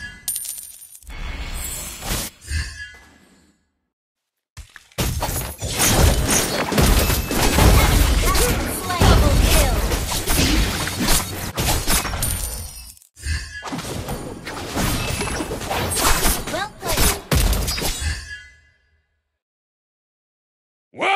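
Explosive crashes and booming impacts from a turret being destroyed in Mobile Legends: Bang Bang, loud and dense, in bursts separated by short silences, with game announcer voice lines over the top.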